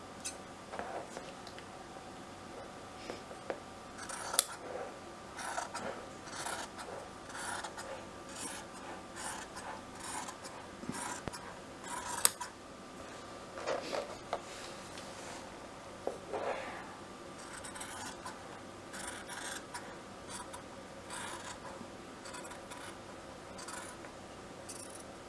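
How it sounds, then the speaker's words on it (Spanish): Scissors cut diagonally across fabric marked for bias strips, giving a soft, steady rasping and snipping texture with small clicks, quiet and close, with no talk. "Vamos a cortar la tela en diagonal."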